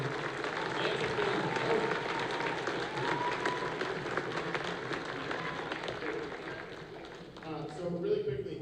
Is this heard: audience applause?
yes